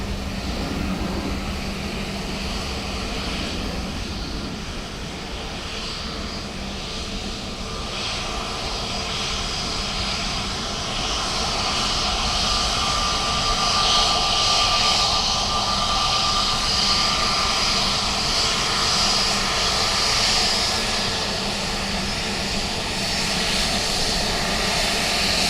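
An airliner taxis past at Dublin Airport, its engines a steady, loud whine and rumble that holds throughout and swells slightly toward the middle and end, with no voices over it.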